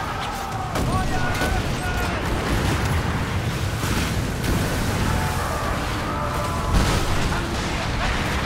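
Cannons boom across a stormy sea in a naval fleet battle in the video game Skull & Bones: dense, overlapping blasts and rumbling explosions rolling continuously under a loud storm-and-battle din.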